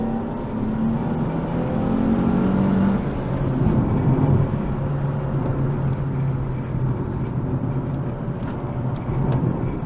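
Low, steady engine drone from a 2013 Nissan 370Z with a manual gearbox, heard from inside while driving, with a sustained hum and slight rises in pitch as it pulls, no talking over it.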